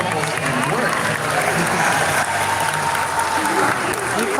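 Audience clapping at a dolphin show in the Georgia Aquarium, a dense sustained patter of many hands in a large echoing space, with crowd voices mixed underneath.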